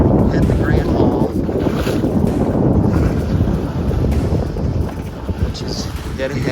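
Sailboat under way off Grenada in perfect wind: a loud, steady rush of wind buffeting the microphone over water noise, continuous throughout with no clear gaps.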